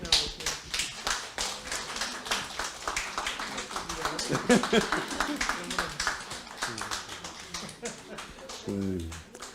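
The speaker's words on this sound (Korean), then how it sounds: "자, 우리 박수로" A church congregation claps steadily for about ten seconds in a reverberant sanctuary during a Sunday service flower presentation, with dense, even hand claps throughout.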